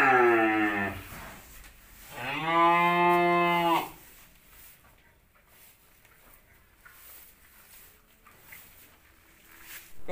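A Simmental cow at a cattle sale lets out two loud, drawn-out moos close by, followed by quieter barn background with faint bird sounds.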